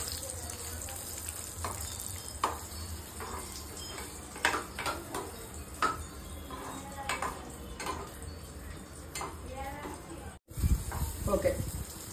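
Cashews frying in a pan for paramannam, a steady soft sizzle and hiss with occasional scraping stirs and clinks of a utensil, continuing at moderate volume throughout.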